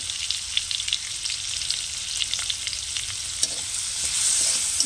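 Spices with salt, turmeric and Kashmiri chilli powder fry and are stirred in a pan of star fruit chutney, a steady close sizzle with scraping strokes of the spoon and a few sharper clicks.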